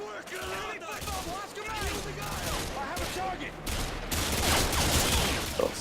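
Dense gunfire and explosions in the video game Modern Warfare 2, with rapid bursts and booms running throughout, loud and busy. Someone talks over the battle.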